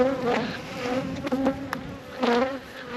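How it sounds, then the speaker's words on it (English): Honey bees buzz right up against the microphone during hive work, their droning tones swelling and fading as individual insects fly close past, loud and without talk. "when the bees are up in the microphone like that"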